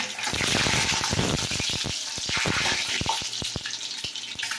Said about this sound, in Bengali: আমার ডিম ভাজা হয়ে গেছে